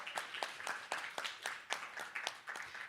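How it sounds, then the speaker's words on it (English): Sparse, thin applause from a small audience at a talk on climate coverage, a handful of separate claps at a steady pace, fairly quiet with no speech over it. "So let's give him a round of applause for that."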